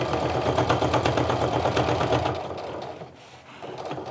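Sewing machine stitching a canvas and cork wristlet runs in a steady, fast rhythmic whir for about two seconds, then slows and briefly pauses before starting up again, close and alone.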